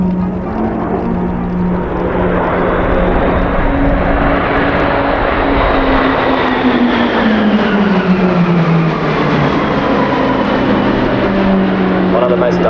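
Propeller aircraft of an aerobatic team perform at a centenary air show, their engine drone loud and continuous with pitch sweeping as they pass overhead, while a commentator talks over the public address.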